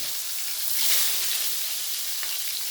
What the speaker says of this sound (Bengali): এবার আমি গ্যাসের জোরটা একটু কমিয়ে আস্তে আস্তে বেগুনগুলো ভেজে নেব